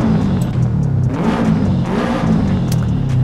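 A Subaru fitted with a mushroom-style cone air filter revs hard in Forza Horizon 5, a loud sustained engine roar with rising and falling pitch and intake whir, with no talking.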